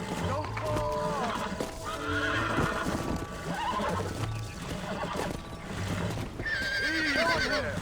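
A horse in the video game Red Dead Redemption whinnies and neighs repeatedly while hooves clip-clop at a gallop, with game music and voices running underneath throughout.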